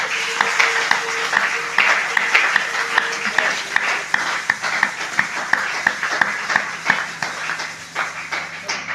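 A church congregation applauding during a prayer service, rhythmic clapping in a steady beat with sustained voices over it, full and reverberant throughout.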